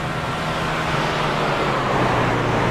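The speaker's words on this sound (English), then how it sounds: "That is an eargasm hearing those trucks come down at 190 miles an hour down the backstretch" NASCAR trucks racing down the Talladega backstretch at about 190 mph: a steady, loud, broadband engine roar that holds constant throughout, with no voices.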